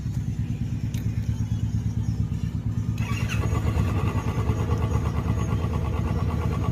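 Royal Enfield Thunderbird motorcycle engine firing up after cleaning and repair work, settling into a loud, close, thumping idle with a steady pulsing beat that grows slightly stronger, no talking.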